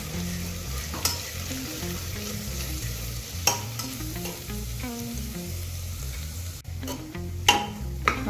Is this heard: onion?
yes